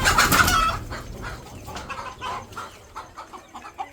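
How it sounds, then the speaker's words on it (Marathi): Hens on a small poultry farm cluck and squawk nearby, with a louder burst of calls at first, then a scattered series of softer clucks from several birds. "कोंबड्या"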